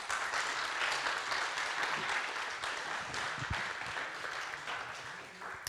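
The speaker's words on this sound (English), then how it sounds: "Let's welcome him with a round of applause." A conference audience applauds to welcome a speaker to the stage, moderate and steady clapping from a room that gently tapers off, with a few stray low thumps.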